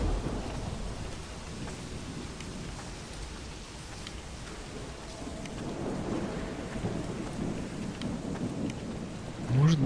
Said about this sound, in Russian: Гроза-то какая, прям природа бушует.